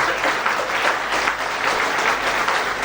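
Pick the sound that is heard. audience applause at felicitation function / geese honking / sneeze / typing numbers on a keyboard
audience applause at felicitation function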